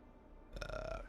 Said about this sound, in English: that burp crawled out then, didn't it?